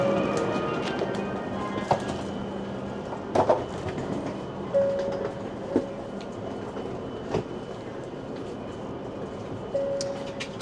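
A long train heading toward Tokyo moves through Nikko station, giving a steady rolling rumble with occasional clunks and brief tonal squeals. Birds call faintly in the background.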